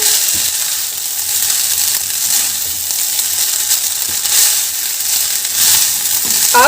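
Veg fried rice with spring onions sizzles steadily as it is stirred and tossed in a hot pan, with scraping spatula strokes over a continuous frying crackle and no talking.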